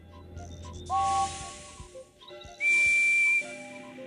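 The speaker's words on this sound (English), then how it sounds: "Listen to the whistles and find one like Percy's." Train engine whistles from the Thomas & Friends game, several toots in turn: short higher pitched whistles, then two longer loud steam whistle blasts with breathy hiss, clean and close.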